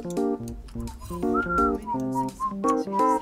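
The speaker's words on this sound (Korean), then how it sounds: "아, 휘파람 불고 있네." Someone whistles a quick, lilting melody up close during a live game broadcast, with clear bright notes rising and falling in short phrases and no talking over it.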